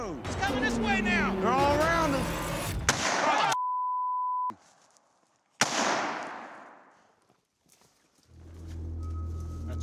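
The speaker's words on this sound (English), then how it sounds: "Couple warning shots right there for the last." Warning gunshots ring out in outdoor woodland: two sharp, loud cracks with echoing tails, following excited talking voices, and a steady electronic tone heard between them.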